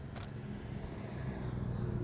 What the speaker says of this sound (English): Here comes a motorcycle.